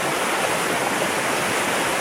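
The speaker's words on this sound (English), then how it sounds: "these beautiful little waterfalls all the way down through this little cleave" Small waterfalls tumble down a moorland cleave on Dartmoor, a steady, close rush of falling and churning water that stays loud and even throughout, with no voices.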